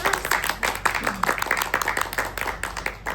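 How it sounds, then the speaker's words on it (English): A round of applause after a student's senior exhibition presentation, a small group clapping in quick uneven bursts, moderately loud and fairly close, lasting a few seconds with no talk. "we'll give you a round of applause first"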